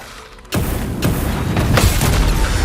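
A booming explosion in the video game Clair Obscur: Expedition 33 hits suddenly after a quiet moment, followed by a second of rumbling combat noise with a few sharp bursts and no talk.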